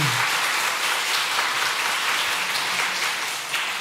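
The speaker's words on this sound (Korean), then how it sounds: "우리 임원분들 힘차게 박수 한번 해주세요" A church congregation applauds its officers in a full, continuous round of clapping that fills the room evenly from start to finish.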